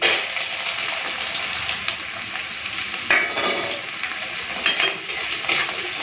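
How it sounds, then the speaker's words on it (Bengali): Chopped onion frying in hot oil tempered with nigella seeds, a steady close sizzle with the scrape and clatter of a spatula stirring through it, no voices. "পেঁয়াজটা হালকা লাল করে ভেজে নিই"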